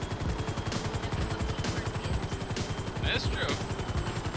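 Rapid gunfire rattles through a shootout in Grand Theft Auto V, steady automatic bursts pulsing throughout at moderate loudness, with a brief spoken remark over the shooting.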